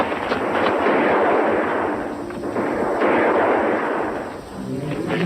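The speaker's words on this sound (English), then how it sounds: "Like our guns, Lieutenant." Dense, continuous gunfire and artillery-like blasts in a battle scene, a sustained rumbling barrage of overlapping shots with no clear gaps, loud and fairly close throughout.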